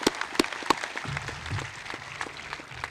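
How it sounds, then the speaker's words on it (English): Audience applause at a high school graduation ceremony in Chambersburg, a few sharp claps at first and then a softer, steady wash of clapping from the crowd. "Please give them a round of applause."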